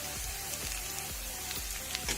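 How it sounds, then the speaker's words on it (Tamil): Spice masala powders with salt, turmeric, chilli and coriander powder sautéing in oil for an egg gravy, a continuous low sizzle with repeated soft stirring sweeps at a steady rhythm. "எண்ணெயிலே வதக்குறேங்க"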